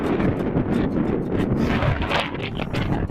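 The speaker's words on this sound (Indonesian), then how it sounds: "di samping anginnya bertiup dengan kencang ya" Strong cold wind on Mount Slamet, the second-highest peak on Java, near the crater, roaring steadily and loudly across the microphone in dense, buffeting gusts with no voices.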